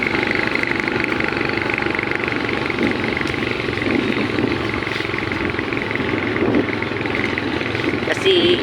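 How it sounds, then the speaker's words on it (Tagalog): A motorcycle rides toward the seaside after days of rain, its engine a steady mid-pitched drone with wind rush and road noise, continuous and fairly close, with a voice speaking over it at times. "motor lang po kami"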